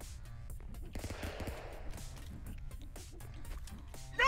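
Rapid cartoon gunfire rattles in the Stick Fight video game, a busy burst of shots and clanks layered over a steady low rumble throughout.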